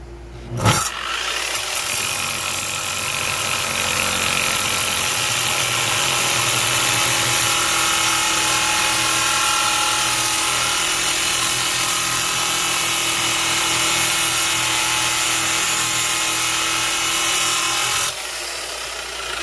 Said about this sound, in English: Using the Chicago hand grinder.